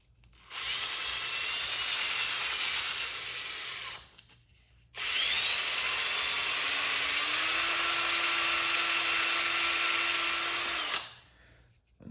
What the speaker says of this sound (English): all I'm gonna do is run the drill in reverse